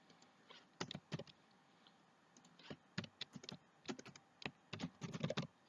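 Someone typing code on a computer keyboard, heard as irregular clusters of close, crisp key clicks with brief pauses, fairly quiet.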